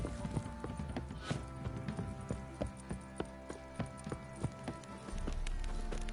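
Hooves clip-clop steadily at a walking pace, a quick rhythm of hollow taps on a hard surface, fairly close, with no talking.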